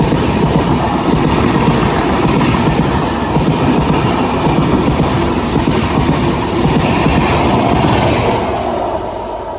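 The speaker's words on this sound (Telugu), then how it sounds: "చెన్నై హౌరా మెయిల్" The Chennai Howrah Mail rolls past on the line near Anakapalli, a loud, continuous rumble with rhythmic clickety-clack of wheels over rail joints and faint squeal, fading slightly at the very end.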